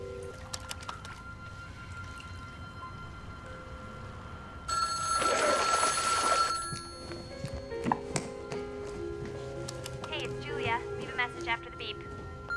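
A telephone rings in a loud burst of a couple of seconds, following quieter background sounds, with faint talking and small clatters afterward.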